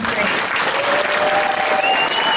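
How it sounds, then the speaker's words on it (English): A school audience gives a round of applause for a 7th grade play, a full, steady wash of clapping heard up close with a murmur of voices underneath. "another round of applause for the 7th"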